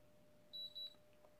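An Instant Vortex Plus air fryer gives two short, high electronic beeps in quick succession, clear and close against a quiet background hum.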